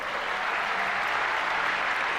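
A dense, steady wash of audience applause fills a comedy stand-up performance by Vir Das, continuous and even throughout with no voices on top.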